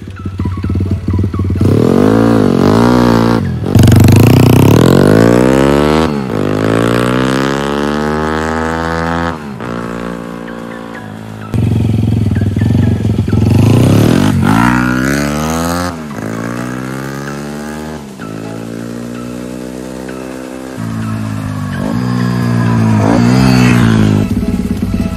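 Honda Gorilla motorcycle with a replaced muffler and ignition coil being ridden, its small engine revving up and dropping through repeated gear changes, loud and close with a buzzy rising whine on each pull and no talking.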